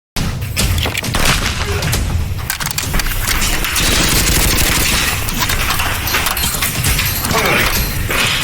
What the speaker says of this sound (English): That is moi shooting the shotgun.